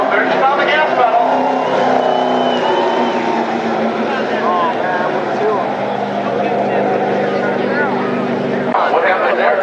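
A NAMARS midget race car at Berlin Raceway revs and accelerates hard, its engine a loud continuous drone with shifting pitch that holds steady for nearly ten seconds, briefly dipping near the end, with a voice talking over it.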